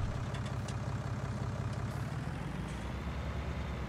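A tractor engine idles in Farming Simulator 19, a steady, loud, low diesel rumble with a continuous throbbing pulse and no voices over it.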